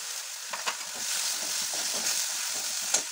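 Green chilli and cumin paste hits a hot frying pan with turmeric, setting off a steady hissing sizzle with a few soft stirring knocks, close and continuous with no voices.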